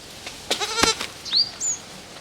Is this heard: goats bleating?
yes